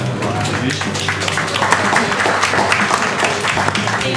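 Applause from a gathering at a photography-course exhibition opening, dense and steady clapping throughout, loud and close, with some voices mixed in.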